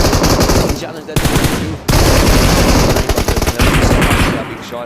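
Rapid automatic gunfire rattles loudly in bursts in a battle royale match on the Miramar map, with short gaps between volleys and distant shots mixed in.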